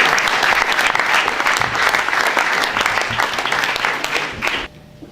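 An audience at an evening event in a hall applauds warmly as Philippe Ayat is welcomed: dense, sustained clapping at an even level that cuts off abruptly near the end.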